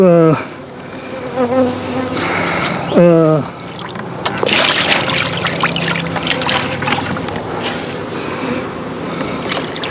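A bee swarm buzzes densely at a hive box fitted with a sugar-water feeder, a loud, unbroken drone filling the whole stretch, with a voice heard briefly near the start.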